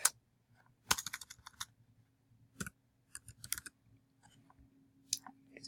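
A journal title is typed on a computer keyboard, heard as close, sparse clusters of light key clicks with short gaps between them over a quiet background hum.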